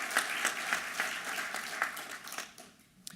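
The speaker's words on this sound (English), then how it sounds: "So Ellie, special clap for you." An audience at a business awards summit gives a short round of applause, steady claps spread across the room that thin out and fade near the end.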